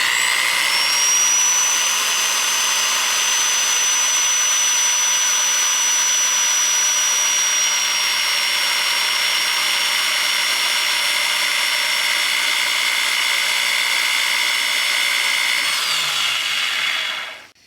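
A power drill whines steadily for a long stretch as it bores mounting holes for a bumper, loud and close, then spins down at the end.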